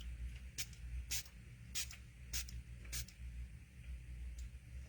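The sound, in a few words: spray bottle spraying onto ink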